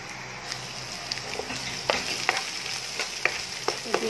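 Onion and garlic sautéing in a pan, a soft steady sizzle with scattered crackles and stirring clicks, fairly quiet and close, no talking.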